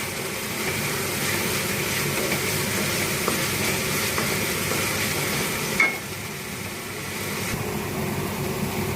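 Ginger-cumin paste and tomato sauté in hot oil in a pan for a Bengali lau chingri dish, a steady soft sizzle with faint stirring scrapes and a brief clatter near the end, no talking.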